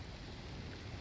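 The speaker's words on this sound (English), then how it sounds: "It is raining again, torrentially." Torrential rain pours down in a steady, dense wash of broadband noise, continuous and fairly quiet throughout, with no voices.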